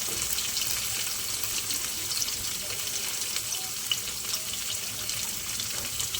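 Cauliflower florets frying in a pan while being lightly stirred, a steady hiss of broad sizzling that holds evenly throughout with no voice over it.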